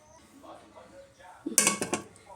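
A metal tiffin box lid clatters in a short, close cluster of clinks and knocks after a quiet stretch of faint kitchen background.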